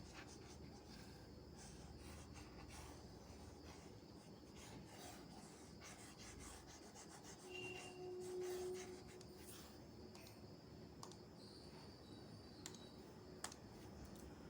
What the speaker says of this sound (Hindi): हम इसे रब कर लेते हैं